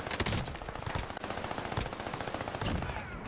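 Steady bursts of rapid gunfire in a shooter video game, with dense repeated shots and a few sharper cracks standing out, fairly quiet overall and heard without talking.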